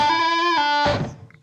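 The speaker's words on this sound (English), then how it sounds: "With the reverb." Through a Boss GT-1000 Core multi-effects unit with reverb on, a distorted electric guitar sounds a sustained chord that is struck again partway through, then gives way to a brief, washy decay.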